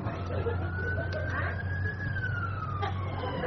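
A wailing emergency siren from a fire engine or ambulance rises and falls slowly at moderate distance, steady and alone over a low hum.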